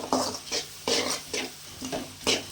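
Vegetables with capsicum sautéing in a pan for chicken pasta, a series of spatula stirs and scrapes recurring roughly every half second over a soft sizzle, close and moderately quiet.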